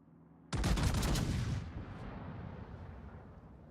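Naval gunfire from a warship in the video game World of Warships: one loud, sudden broadside blast that booms for about a second, then a long rumbling tail that slowly fades.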